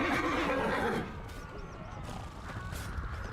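A horse whinnies loudly at the start in the video game Chivalry 2, the neigh fading after about a second into a murky ambient background.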